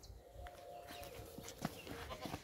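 A male goat being sold for Qurbani bleats faintly outdoors among steady farmyard noise, with light hoof clatter and scattered knocks over about two seconds.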